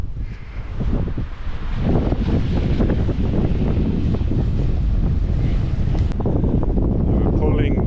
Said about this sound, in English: It's very, very windy here today